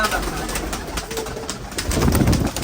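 Pigeons being released, with soft cooing and a rustle of wings close by under a steady background hiss, brief and continuous.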